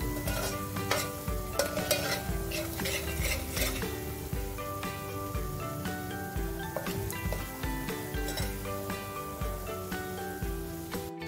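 Crabs frying in hot oil in a pan, a steady dense sizzle with stirring clatter and spoon-on-pan clinks running throughout, fairly close and continuous with no talk.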